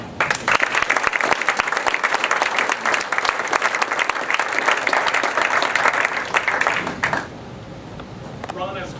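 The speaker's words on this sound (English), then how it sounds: "But I want a big round of applause for Jim." An audience at a brand and website launch in Manning, Iowa gives Jim a big round of applause, loud close clapping for about seven seconds that then drops to scattered claps with a voice starting to talk.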